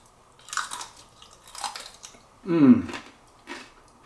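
Crispy bacon being chewed up close, with several separate crunchy bites and squishy chews in an irregular rhythm, the loudest around the middle, against a quiet background.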